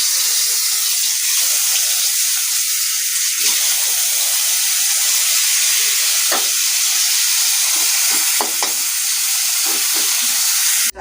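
Potatoes frying in a pan for a bitter gourd and potato dish with mustard paste, a steady close hiss of sizzling oil running throughout with a few brief clicks and stirring knocks.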